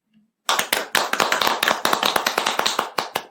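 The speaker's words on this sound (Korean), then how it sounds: "도적들이 일제히 손뼉을 치며 한 목소리로 칭송하였다" A band of bandits clap their hands together in unison, a sharp rapid burst of close, loud claps that starts abruptly after a moment of silence and continues in a steady quick rhythm.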